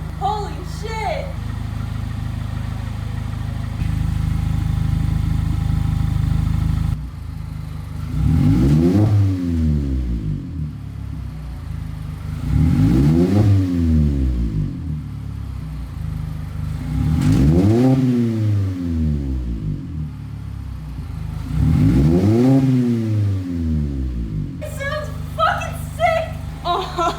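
Mazda Miata RF with a new ISR exhaust, revved four times in steady succession, each rise and fall loud and close, with idle between pulls.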